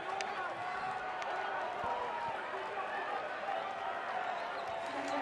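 Restless stadium crowd at a Lamar Hunt US Open Cup semifinal soccer match between Sacramento Republic FC and Sporting Kansas City, a steady distant murmur with scattered shouts and claps under the ongoing commentary.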